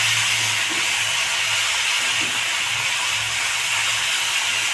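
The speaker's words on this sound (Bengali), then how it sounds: "একটু ভেজে নেবো" Vegetables for Bengali shukto fry in a pan, giving a steady, loud hiss and sizzle that runs unbroken from start to finish with no talking.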